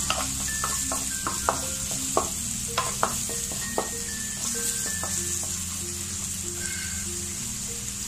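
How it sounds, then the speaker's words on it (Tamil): Onions sizzle in hot oil with turmeric and coriander powder for a samosa filling. A steady close fry runs throughout while a spoon stirs and taps the pan at irregular intervals. "வெங்காயம் கொஞ்சம் வதங்கிடுச்சு."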